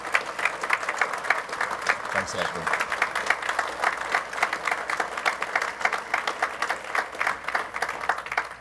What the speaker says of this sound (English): let's give Anthony a round of applause